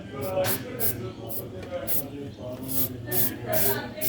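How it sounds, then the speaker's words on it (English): Carpet cleaner is sprayed in short repeated hissing bursts into a Victa Tilt-A-Cut S90 lawn mower carburettor jet, close and crisp, with muffled voices talking underneath. "So we'll spray this one with the carpet cleaner."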